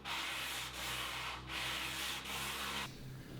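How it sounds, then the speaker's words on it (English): Hand sanding along the inside edges of a wooden kitchen face frame, a steady close scratchy rasp in three long back-and-forth passes with brief pauses, alone with no talk, ending abruptly. "I could sand the inside edges by hand just to remove any tool marks."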